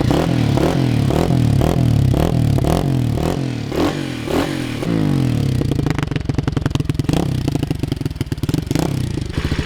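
A small 125 pit bike motorcycle engine idles while warming up, loud and close, with a pulsing, uneven rhythm that shifts into faster, rattling firing partway through.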